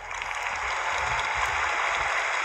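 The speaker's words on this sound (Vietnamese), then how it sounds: "This clap is for you." An audience claps in a dense, steady wash of applause for a short stretch, moderately loud and evenly sustained without voices.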